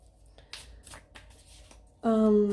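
Tarot cards being shuffled and drawn by hand, with a series of quick, crisp flicks and riffles close to the microphone. A voice begins speaking at the very end.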